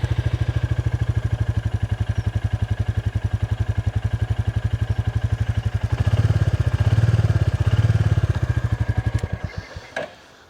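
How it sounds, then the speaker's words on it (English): A Royal Enfield Classic 350 single-cylinder motorcycle engine thumps steadily nearby in an even, slow pulse, swelling louder for a few seconds before cutting out at the end. "It's an absolutely lovely little machine. Yeah, it's a really nice little motorcycle."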